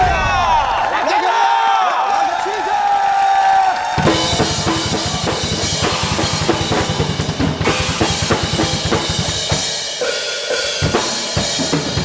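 A young drummer's performance greeted by a studio audience on a Korean variety show with loud applause and cheering, a host's voice carrying over at first before the crowd noise takes over.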